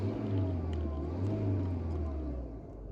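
A car engine idles steadily after being started at a repair shop in Istanbul, a low, continuous rumble with a slight swell and fade, close by and fairly loud throughout.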